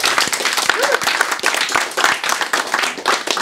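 A concert crowd at the @party 2010 demoparty applauds loudly and close, with dense overlapping claps filling the whole stretch and a few cheers mixed in.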